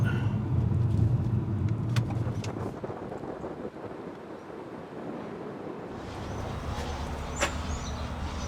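Steady road noise inside a moving car on a drive in South Australia, a continuous low rumble with wind hiss that dips briefly midway, then resumes with a few faint knocks.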